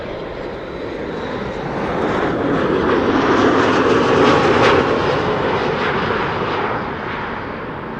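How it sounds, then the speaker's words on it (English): A Boeing 737 MAX 8 arriving from Reykjavik at Amsterdam Schiphol passes close overhead, its engine roar building to a loud, broad rush at mid-pass before easing away, heard alone without voices. "another MAX 8737 arriving from Iceland, Reykjavik"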